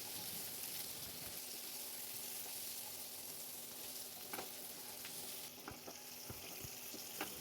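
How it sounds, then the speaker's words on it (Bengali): Mashed potatoes frying in hot white vegetable oil in a kadai, a steady close sizzle with occasional stirring clicks and sharper crackles, no talking. "এবার মাখানো আলুগুলোকে দিয়ে দিলাম। ভালো করে ভেজে নেব।"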